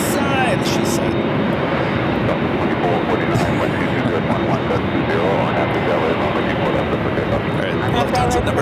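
A Lufthansa airplane roars at LAX during takeoff, its jet engines producing a continuous loud, broadband rumble and hiss that stays steady throughout, while a voice talks over it.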